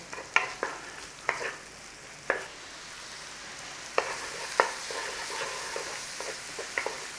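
Onion frying in a pan for a corned beef and cabbage pie, a soft steady sizzle broken by a series of sharp clicks and taps from stirring, fairly quiet and close.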